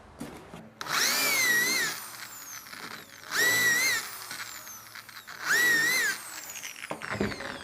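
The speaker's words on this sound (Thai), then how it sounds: "เดี๋ยวเราเจาะ3รูนะครับ" A power drill bores three holes into a clamped wooden sofa frame, giving three separate whining bursts, each about a second long, with the motor pitch rising and falling. Quieter handling noise fills the gaps between them.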